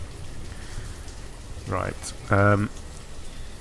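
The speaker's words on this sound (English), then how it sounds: "And it's raining again." Soft, steady rain falls in the village-building video game Banished, a faint continuous hiss under a man's brief speech.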